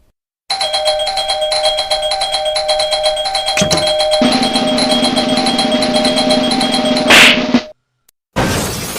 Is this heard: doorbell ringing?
yes